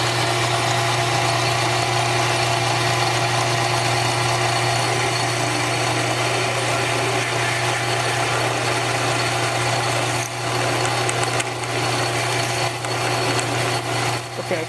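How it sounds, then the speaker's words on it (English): A steady, loud mechanical whine of a drill press boring into steel with a 5/16-inch bit, running continuously without pause, with a constant low motor hum underneath. "I'm gonna start with the 5/16 drill."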